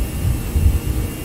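Jet engines of a Toliss A319 airliner in X-Plane 12 spool up toward takeoff thrust, a steady loud low roar with a broad hiss and no talk.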